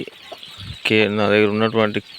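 A native chicken clucks loudly and close by in a rising, drawn-out call, after a brief faint murmur.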